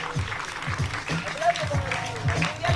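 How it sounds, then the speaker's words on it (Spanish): An audience at a poetry slam event in a botanical garden claps, a moderate patter of applause beneath an announcer's voice. "fuerte aplauso para Montenegro Fisher."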